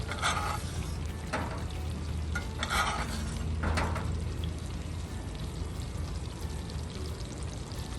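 Beef tenderloin with garlic sizzles steadily in a cast iron pan inside an RV, a dense continuous fry with a few brief louder spurts as it is basted, close up and without talk.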